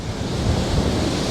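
Rough sea waves against the sea wall at Blackpool's Gynn Wall at night, a loud continuous roar and wash of churning water mixed with wind buffeting the microphone.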